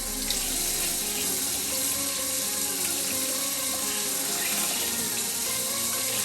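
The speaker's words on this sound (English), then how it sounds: "run them under the water and then squeeze them out, wring them out like this" Tap water running steadily into a sink while makeup brushes are rinsed, a constant close splashing rush with faint gurgling variation throughout.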